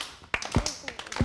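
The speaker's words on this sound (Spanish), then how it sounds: "Te acompaño yo con las palmas" Hands clap along to a children's song in a few distinct, close smacks spread across a second or so, mixed with voices.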